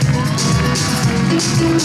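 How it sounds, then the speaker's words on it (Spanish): A crowd at the opening of an Andalusian fair in Valencia cheers and whoops, a dense wash of shouts and scattered clapping, loud and close throughout with voices mixed into the noise. "Un fuerte aplauso, por favor."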